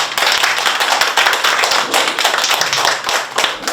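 A small group claps to welcome participants at a gathering, the hand claps close and distinct, forming a lively steady patter throughout with no speech.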